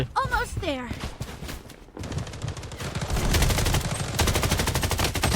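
Rapid automatic gunfire rattles in the shooter game Blood Strike, fast repeated bursts that build to a loud, sustained volley, with a brief excited voice heard early on.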